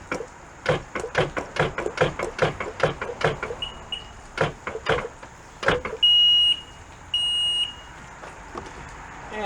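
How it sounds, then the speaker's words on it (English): Jet ski engine cranking over slowly on a weak battery, a rapid series of sharp starter strokes that sag and stop, then resume briefly, with a steady high electronic tone and intermittent beeps near the end. "it's not cranking over all the way"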